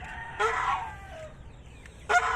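A hungry farm goose calls noisily, two loud, harsh honking cries close by, separated by a short quiet stretch.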